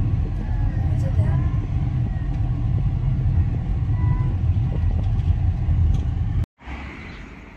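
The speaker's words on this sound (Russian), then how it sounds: "Машин везде очень много" Dense street traffic rumbles steadily as cars pass close by on a city road, a loud continuous drone that cuts out abruptly near the end, with people talking under it.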